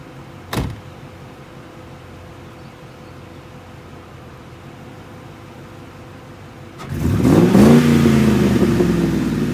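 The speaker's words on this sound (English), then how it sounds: "I'll go ahead and actually roll up the windows so you can see what the tint looks like with the windows shut" Power windows on a 2003 Ford Mustang GT: a single click, then several seconds of quiet, then a loud steady motor whine with a rising-falling pitch as the glass rolls up, close by.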